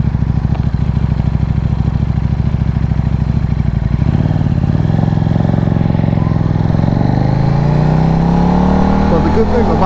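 A motorcycle with strong low-end torque shifts from first into second gear, its loud, close engine note dropping at the change and then climbing steadily in pitch as it pulls hard.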